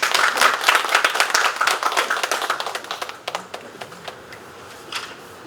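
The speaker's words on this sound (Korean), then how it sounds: "여러분 박수 한번 쳐주세요." A small audience at a university debate event claps, loud at first and then thinning out into scattered claps before fading.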